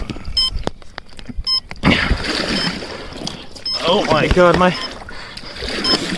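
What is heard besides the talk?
water splashing into a boat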